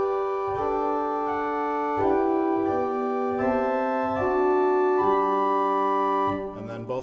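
A pipe organ's 4-foot principal stop played alone, sounding an octave above the 8-foot rank, in a slow sequence of sustained, overlapping notes; clear and moderately loud, no talking.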